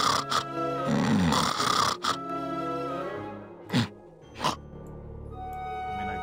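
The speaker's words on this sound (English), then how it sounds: "Snoring is really loud for me" Loud, drawn-out snoring from a sleeping character in the adventure video game Grim Fandango, several deep rasping breaths in a row followed by a couple of sharp snorts and quieter breathing.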